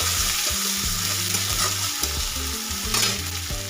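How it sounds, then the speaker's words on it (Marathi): A spice paste is stirred into a pan of spring onion greens frying for a traditional Maharashtrian bhaji. Steady sizzling and scraping run throughout with a low, even hum beneath. "पेस्ट घालून घ्यायची त्याला व्यवस्थित मिक्स करून घ्यायचं"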